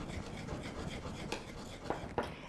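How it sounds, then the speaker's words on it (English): A spoon scrapes through frozen banana nice cream straight from the freezer, giving a steady close rasping rub with a couple of sharper scrapes near the end, no talking. "So I'm just going to try and get this scraped out."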